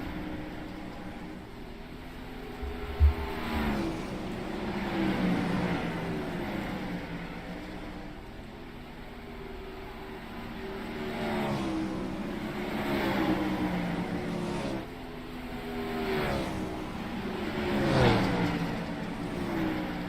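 Sprint car engines racing on a dirt oval in a simulator, a faint, droning roar that swells and fades in repeated waves as cars circle past, with a brief low thump early on.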